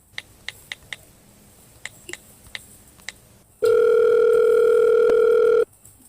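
Several sharp clicks like buttons being pressed, then a loud steady telephone dial tone holds for about two seconds and cuts off, heard while someone places a call.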